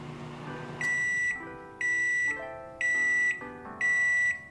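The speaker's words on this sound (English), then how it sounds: "I popped it in the microwave for like 10 seconds" Electronic beeps from a microwave oven used to soften a stick of butter, four loud even tones at a steady interval, with a faint background hum between them.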